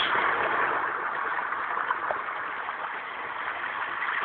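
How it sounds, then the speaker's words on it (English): An ocean-waves setting on a white noise machine plays a continuous band-limited wash of surf, steady and fairly loud with gentle swells in level and no talk over it. "That's waves."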